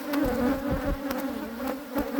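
Honey bees buzz steadily at an open hive during box splitting, a dense continuous drone with a few brief louder passes of single bees close by.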